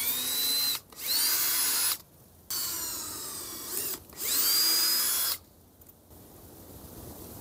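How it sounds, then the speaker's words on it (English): A close power drill whirs through the wooden sides of a birdhouse in three loud bursts separated by short pauses, its pitch dipping as the bit bites in. "I'm just going to drill through the sides"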